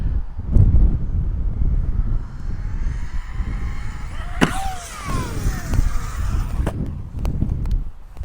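An Arrma Typhon 6s RC car revs and launches off a jump outdoors, its high electric whine rising and sweeping away into the distance, with wind noise and rumbling handling noise throughout.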